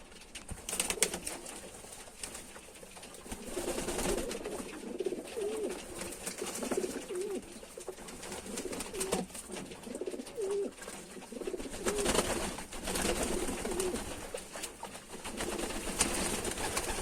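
Several pigeons coo softly and repeatedly at close range, their low burbling calls overlapping in a steady murmur over faint background noise.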